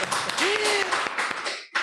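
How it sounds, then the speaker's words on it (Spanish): A short burst of applause opens a Spanish-language talk show episode: dense clapping with a rising whistle over it, cutting off briefly before a final flare. "¡Aplausos!"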